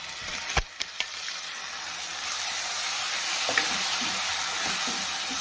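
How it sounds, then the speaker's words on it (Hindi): Finely chopped tomatoes dropped into a pan of garlic, onion and ginger and fried, with a few clattering knocks at first, then a steady, close sizzle and soft stirring scrapes, and no talk. "इसको भी हम भून लेते हैं।"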